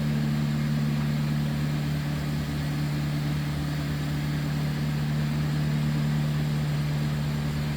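A 1938 Packard Eight sedan's straight-eight engine runs smoothly at a low, even hum, steady and moderately quiet with no voices over it.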